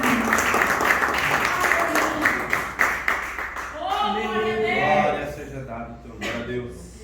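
A church congregation claps for Jesus during a Psalm 93 sermon, a loud burst of many hands that fills the first half, then thins out as a voice begins speaking over the fading applause.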